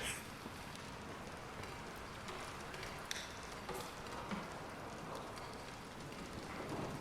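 Rain ambience from the horror game Bendy and the Dark Revival: a faint, steady hiss of rainfall pattering on surfaces with occasional soft crackles, continuous and distant, with no voices.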